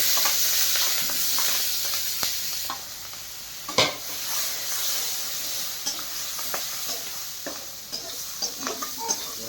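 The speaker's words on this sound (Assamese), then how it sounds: "পিঁয়াজ জলকীয়া ভাজা হৈছে" A steady sizzling hiss of onions and green chillies frying in a pan, with a spatula scraping and stirring now and then, close and fairly loud.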